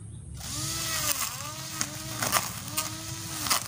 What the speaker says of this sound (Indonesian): kita coba ya mesin potong rumput elektrik seperti apa hasilnya